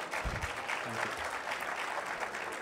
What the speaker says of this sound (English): Please, a round of applause for Sanjeev Sanyal.